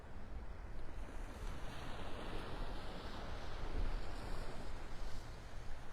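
Ocean surf washing onto the sand piles at Delnor-Wiggins beach in North Naples, Florida, a steady broad roar of breaking waves with some wind buffeting the microphone, continuous and fairly close, with no voices.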